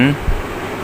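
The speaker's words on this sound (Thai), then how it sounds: "เสร็จแล้วเราก็เสียบปลั๊กนะครับ เสียบปลั๊กแล้วก็ไปดูที่พัดลม" Air-conditioner fan motor, wired to a household plug, spins up after being switched on, giving a brief low buzzing hum with a short thump, heard close and steady over a noisy background.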